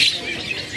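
Caged birds squawk and chirp at a busy stall in Pramuka bird market, Jakarta, where young perkutut doves are sold, a short burst of high-pitched calls over steady market background.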